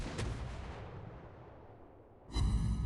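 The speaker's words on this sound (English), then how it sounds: "I doubt any of these shots will hit." Warship guns in a naval video game firing a long-range salvo at a destroyer: one loud boom fading into a long rumbling tail, then a second heavy blast near the end.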